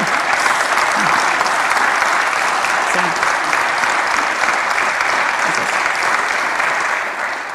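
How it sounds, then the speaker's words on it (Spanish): Sustained loud applause from a conference audience at a regional forum, a dense steady roar of many hands clapping that holds throughout and eases slightly at the very end. "Y acá deberían aplaudir, che"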